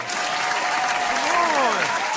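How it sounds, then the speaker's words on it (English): Brief burst of crowd applause, loud and continuous, with a voice or tonal sound sliding underneath. "give him a round of applause"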